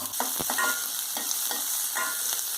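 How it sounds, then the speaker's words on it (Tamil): Onions sizzle steadily in hot coconut oil while a utensil scrapes and stirs through the pan for egg curry; no one speaks. "எண்ணெய் சூடானதும் வெங்காயம் போட்டுக்கோங்க"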